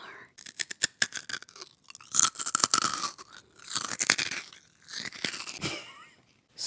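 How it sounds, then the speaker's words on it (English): Close, loud crunching and chewing of a crisp Japanese Valentine's snack, a run of sharp crackling bites and grinding chews with brief pauses between them, and no talking. "Oh, crunch."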